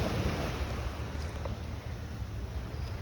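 Water washes against a ship and boat jetty near Ross Island, a constant loud rushing surge mixed with wind buffeting the microphone, with no voices.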